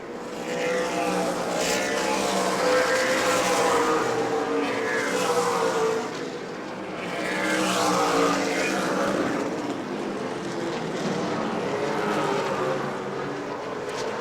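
Super late model race car engines roar past again and again at New Smyrna, swelling and fading as the cars circle the oval track, loud and continuous.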